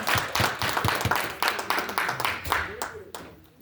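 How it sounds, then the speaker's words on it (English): Audience clapping at a conference, a smaller group with individual claps audible in an uneven rhythm that fades toward the end, with talking over it. "Let's give these young folks another round of applause, please."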